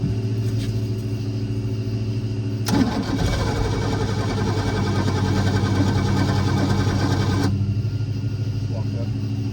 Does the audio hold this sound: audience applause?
no